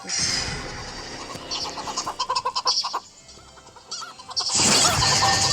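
Chickens clucking and squawking nearby in a farmyard, loud agitated bursts with a brief quieter gap, then a dense flurry of noise.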